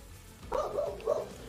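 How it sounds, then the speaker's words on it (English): A dog barks a few times indoors at moderate distance, two short bursts of yapping with a brief gap between them. "Meanwhile, my dog's going nuts."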